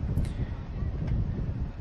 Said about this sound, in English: on a windy afternoon here